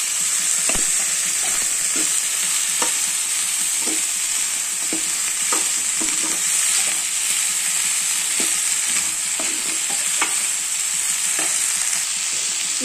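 Cut beans (chikkudu kaya) frying in a pan with a little salt, giving a steady loud sizzle while a spoon scrapes and stirs in irregular strokes.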